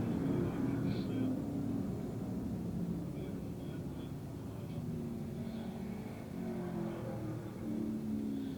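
Pro stock race cars roar around Can-Am Speedway, their engines a distant, fluctuating drone that swells and fades as they pass, heard under a public-address commentator calling the race.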